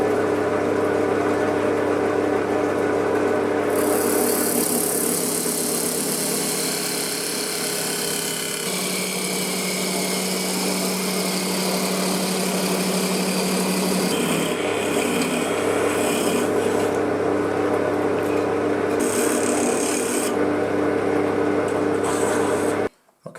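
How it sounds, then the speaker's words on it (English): A wooden blank spun on a lathe while a tool turns it down round, the start of a turned sphere; a constant motor hum under a steady scraping cut, loud and close, ending abruptly. "all we're going to do is quite simply turn both sides of this blank down to 1 inch round"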